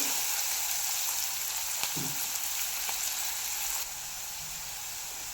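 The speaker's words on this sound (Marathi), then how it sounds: "तर पहा इथे कांदा छान भाजून घेतला आहे" Chopped onion sautéing in a pan for a Marathi masoor dal, a steady broadband sizzle with a few soft stir scrapes, dropping slightly quieter near the end, with no talking.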